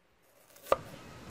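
A knife splits a purple shallot in half on a cutting board with one crisp, close chop while preparing a pork rib vegetable soup, with quiet kitchen ambience around it.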